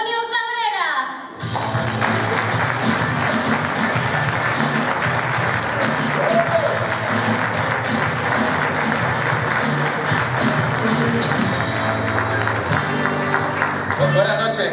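Sustained loud applause from a theatre audience greeting a comedian on stage, starting abruptly after a brief spoken announcement and continuing evenly to the end.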